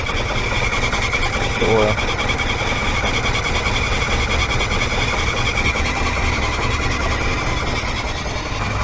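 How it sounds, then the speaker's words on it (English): A Proton Saga Iswara LMSS engine idles roughly after a cold start, with a steady, slightly uneven mechanical drone and a squealing whine running throughout, close by, while a voice speaks briefly over it. "that's the rough start right there"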